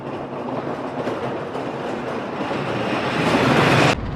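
The Switchback shuttle roller coaster by Gravity Group, a wooden family coaster, roars past with a continuous loud rumble and clatter that builds toward the end and cuts off sharply.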